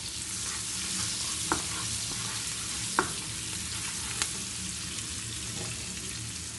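Onions sizzle steadily in a pan with curry powder added, a dense continuous frying hiss broken by a few soft clinks and scrapes of a stirring utensil, close and alone.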